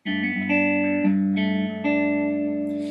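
Clean electric guitar notes picked one after another on the bridge pickup, bright and twangy with a touch of effect, each note ringing into the next, played alone.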